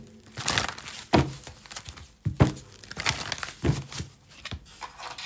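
Tarot cards being shuffled by hand during a reading, close and quiet, with papery riffles and soft slaps repeating in an uneven rhythm and no talking.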